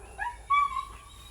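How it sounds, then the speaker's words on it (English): A dog gives short whimpering yips at home, a couple of thin, high vocal bursts close by, with no speech. "He's just annoying because he barks a lot."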